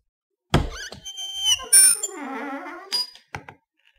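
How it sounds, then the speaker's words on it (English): Door creaking on rusty hinges in the wind: a loud close knock opens into a long, wavering, squealing creak with shifting pitch, followed by a couple of sharp knocks and thuds, then silence. "the sound that you just heard was how a door creaks when the wind blows"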